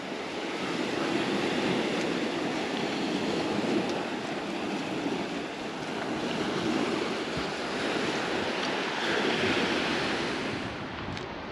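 Continuous surf breaks on a beach on the French Atlantic coast at sunset, a loud, even wash of water rising and falling gently over several seconds, with wind buffeting the microphone and nobody speaking.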